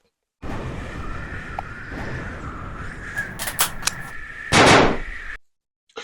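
A WeTech Apache A3 MP5 gas blowback airsoft gun firing, a sustained rattling burst of shots lasting several seconds with a few sharper cracks and a louder blast near the end, close to the microphone.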